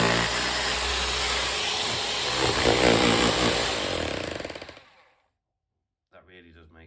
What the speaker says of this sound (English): the bit on the floor is really concreted in, so I've just got the power chisel out